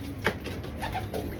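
A racing pigeon coos softly after landing, a few low murmuring calls at a moderate distance over steady outdoor background noise, with no voices.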